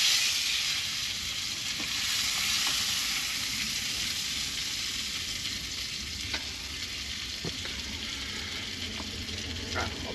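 Food sizzles and fries steadily on a Camp Chef Deluxe camp stove at a stealth campsite, a continuous bright hiss with a few small pops and clinks, heard alone without talk.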